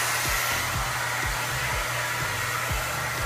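A hand-held blow dryer drying a puppy gives off a steady, loud, close whoosh of air with faint low rhythmic thumps running underneath, and no voices are heard.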